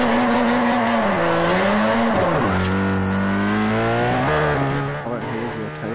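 Forza Horizon drift run: a loud, continuous game car engine sweeping up and down in pitch as it revs through the slide, with tire squeal layered on top and no break in the sound.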